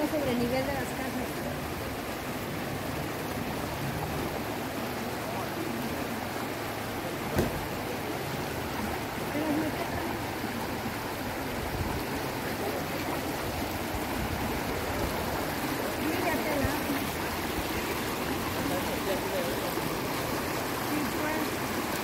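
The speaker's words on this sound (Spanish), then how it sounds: "el río iba hacia abajo, pero ahorita ya el río está sobre el nivel de las casas" Floodwater of a swollen river in Tejupilco, State of Mexico, rushing past houses at the level of their foundations, a steady broad roar of moving water close by with faint talk in the background.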